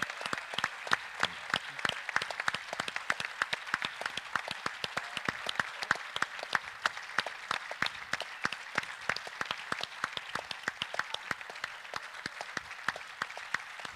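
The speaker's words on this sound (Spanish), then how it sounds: "Así que para Ana y Paco, una gran ovación." Applause from an audience at the closing ceremony of a conference: a long run of dense, sharp clapping, fairly faint and at a steady distance, continuing on its own without speech.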